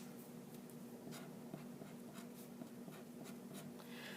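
Pen or marker writing out points by hand, a quiet continuous scratching of strokes with brief taps, faint under a steady low hum, no talking.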